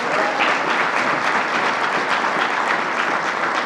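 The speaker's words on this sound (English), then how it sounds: "Let's give her a round of applause." An audience at a SUNY Poly announcement event gives a steady, dense round of applause that holds evenly loud for the whole stretch, with no voices over it.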